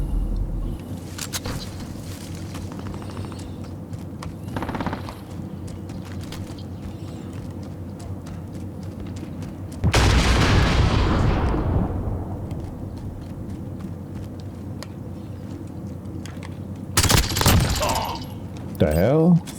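Modern Warfare gunfire in an online match: scattered sharp shots and a heavy, booming burst with a long rumbling tail, then another loud volley near the end, over a low background hum.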